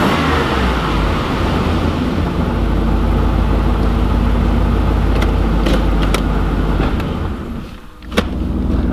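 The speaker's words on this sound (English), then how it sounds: "Alright, so the idle is actually pretty good right now." A tuned port injection LB9/L98 V8 car engine idles steadily in park, a continuous low rumble with a few brief clicks and a short dip near the end, with no talking.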